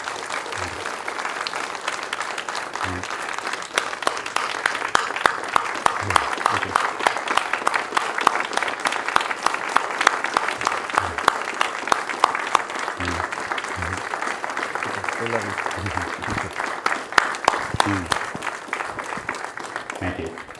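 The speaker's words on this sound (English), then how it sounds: "Can we just give a warm round of applause to Alan?" Warm, sustained applause from an audience at a memorial speech event in Dallas, many hands clapping loudly and evenly for about twenty seconds, with occasional voices underneath.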